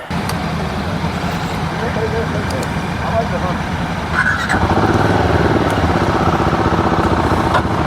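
A 2025 Royal Enfield Guerrilla 450 motorcycle is ridden with a steady, loud engine drone and wind rush, and the engine note rises about halfway through, with no talking.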